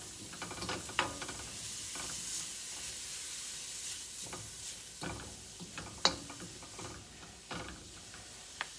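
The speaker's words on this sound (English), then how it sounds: "Stir fry again. Get all this mixed in." Egg roll filling being stir-fried in a hot pan, with a constant sizzle broken by scraping, clacking stirs of the utensil at irregular intervals and a few sharper knocks, close and fairly quiet, with no talking.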